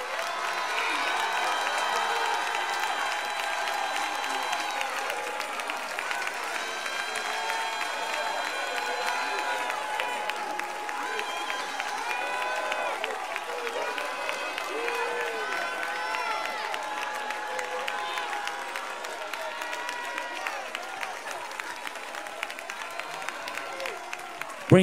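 A church congregation claps together for a long stretch, a dense sustained wash of hands with cheers and shouts rising over it and voices calling out throughout.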